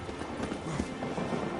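A warhorse's hooves clip-clop with soft, irregular thuds in the video game The Witcher, heard faintly through a busy ambient wash.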